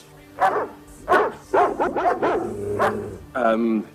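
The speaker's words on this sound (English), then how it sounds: "How would you like for my dog here, Herbert Al-Shmatar, to attack a little bunny" A dog in a fairy-tale television production of Sleeping Beauty barks several times, close and loud, mixing sharp barks with higher yips and a whine.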